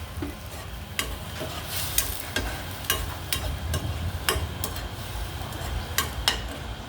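Thai bitter-style larb being stir-roasted in a pan: a busy, continuous frying hiss broken by frequent sharp scrapes and clacks of a spatula against the pan, close and fairly loud, with no voices.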